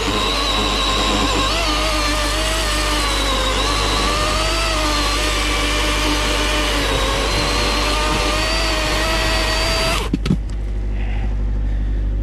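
A DeWalt 16-inch electric chainsaw runs at a steady, loud motor whine for about ten seconds while processing firewood, then cuts out abruptly and leaves a quieter background.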